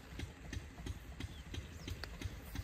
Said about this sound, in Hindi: कर दिए इंजन स्टार्ट,